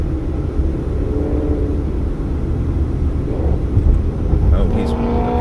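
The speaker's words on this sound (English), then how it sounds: "It sounds like there's a Corvette up here that is attempting to race or something." A Corvette racing an older Camaro on a Las Vegas street near Nellis makes a low, steady engine rumble that swells slightly toward the end, heard from inside a passing vehicle with some talking over it.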